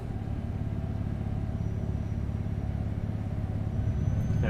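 A car engine in a racing video game played on a Thrustmaster TH8S shifter setup hums in a low, steady drone as the revs ease down, continuous and fairly loud with no talk.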